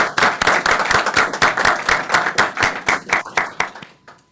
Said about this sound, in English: Join me in giving Rob a round of applause.